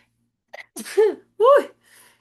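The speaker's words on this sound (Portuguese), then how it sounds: "não parava de espirrar" A close, loud sneeze preceded by a quick intake of breath, followed by a second sneeze and a faint exhale.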